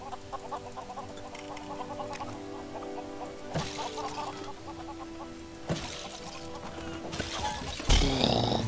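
Repeated clucking of chickens inside the LEGO Worlds game keeps going over an ambient game bed, broken by a few short noisy bursts and a louder scuffle near the end, with no speech.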